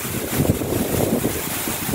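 Cachoeira do Vidal, a waterfall in the forest of the Serra de Dom Simão, gives a steady broadband roar of falling water, continuous and fairly loud, with no voices over it.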